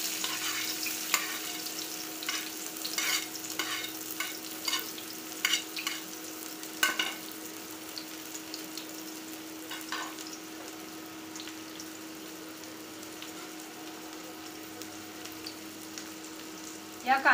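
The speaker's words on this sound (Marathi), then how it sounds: "या कांद्याला आपण चांगल्या प्रकारे फ्राय करून घ्यायचं आहे" Finely chopped medium onion frying in a pan for egg rice, a soft steady sizzle with scattered stirring scrapes and clicks, fairly quiet with a faint background hum.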